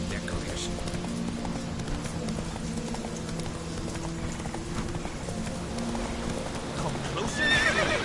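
Roach, the horse in The Witcher 3, trots with rhythmic hoofbeats and lets out a whinny, heard fairly loud and close under ongoing game voices and ambient background.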